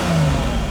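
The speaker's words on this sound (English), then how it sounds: "You hear the chains, you hear the gearbox, you hear the whine from the engine." A Lamborghini Miura SV engine revving, a brief, loud, close rumble with a thin gearbox whine riding over it, no talking.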